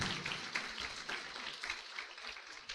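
A church congregation claps their hands in praise, quick rhythmic clapping heard at a moderate distance with faint voices mixed in.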